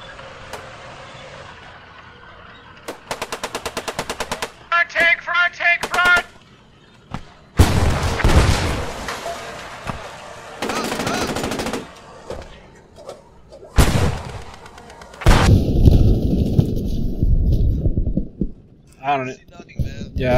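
Gunfire strikes around a tank in the World War II game Post Scriptum: bursts of rapid automatic fire, heavy booming impacts and rumbling engine noise come loud and close, with voices talking between the shots.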